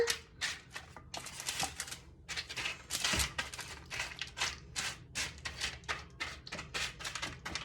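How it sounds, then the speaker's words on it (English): Cereal and pretzel snack mix is pushed across parchment paper on a baking tray, making a run of dry, crisp rustles and scattered clatters, close and fairly quiet, with no talking. "just kind of spread it out so it's a nice even layer on your parchment paper"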